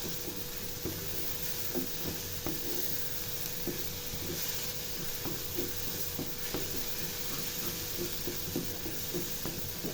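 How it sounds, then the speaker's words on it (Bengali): Beef brain fries in a pan, with a continuous close sizzle and hiss and scattered light clicks and scrapes from stirring throughout, no voices present. "এভাবে ২-৩ মিনিট ভাজা ভাজা করতে করতেই আমার রান্নাটা হয়ে যাবে।"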